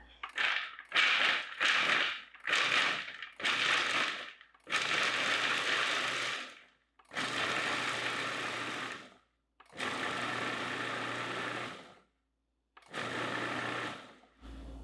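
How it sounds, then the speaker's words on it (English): A food processor pulses through nuts in a string of short bursts that lengthen into longer whirring runs, close and loud, each burst followed by silence, with a harsh chopping grind. "I'm going to start with pulsing it because we don't want it like a nut butter too pureed, but we want it to be chopped up"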